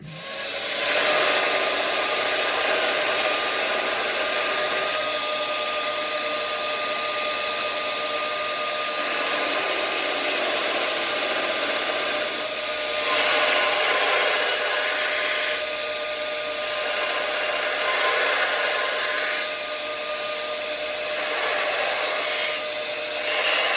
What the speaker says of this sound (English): I'm gonna run it on my grinder. Use a worn out 36 grit belt just to get all the scale off.